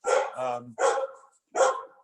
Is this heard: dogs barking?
yes